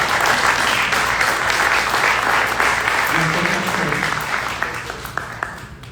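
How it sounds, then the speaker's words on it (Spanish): Audience applauding at a ministry anniversary celebration, dense sustained clapping that gradually thins and fades toward the end. "Un aplauso para ellos."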